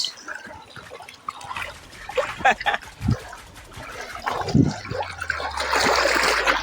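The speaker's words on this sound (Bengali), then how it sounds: "সমুদ্রের পানির আওয়াজগুলো শুনেন গাইস" Sea water washing against the shore near a bridge, a loose, splashing wash with scattered gurgles that swells into a broader, steadier surge toward the end, heard close without talk.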